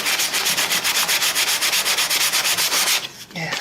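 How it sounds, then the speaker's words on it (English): Sandpaper rubs rapidly back and forth over excess material on an HO scale model railroad layout, a close, rhythmic scratching in quick even strokes that stops near the end. "Sand down this extra material."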